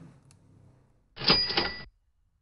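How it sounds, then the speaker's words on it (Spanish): A short cash register effect, a bright ringing chime over a rattling mechanical burst, lasting under a second after a quiet moment. "caja registradora también"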